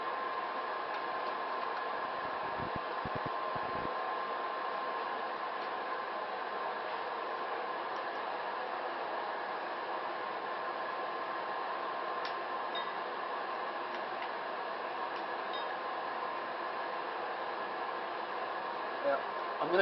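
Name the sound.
forge heating a double bevel hunter knife blade for heat treatment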